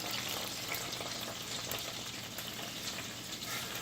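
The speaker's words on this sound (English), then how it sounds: "if you hear that popping and that snapping in the oil, well, that's that lemon juice popping off" Butter and oil frying with lemon juice added for chicken piccata, giving a steady close sizzle with scattered pops and crackles throughout, no talking.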